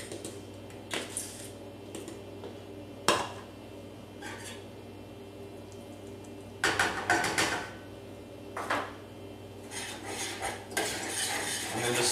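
Brown rice breadcrumbs are stirred into melted vegan butter in a pan, with a spoon scraping and clinking against the metal in bursts between quieter pauses, close up and without speech.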